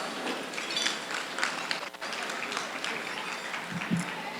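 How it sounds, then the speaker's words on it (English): Audience at a medical convention's stand-up comedy show applauds to welcome a comedian, a steady moderate wash of clapping with a brief dip partway and a short voice near the end. "Please give Dr. Raju a warm round of applause."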